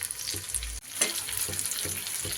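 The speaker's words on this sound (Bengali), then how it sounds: "সাবধানে এটাকে উল্টে পাল্টে ভেজে নিতে হবে।" Thick pieces of rava fish fry in oil over medium heat with a continuous, even sizzle, broken by a brief clatter as a piece is turned.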